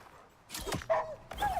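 A dog in the survival video game Icarus barking two or three short, close yips in quick succession, fairly loud against a quiet background.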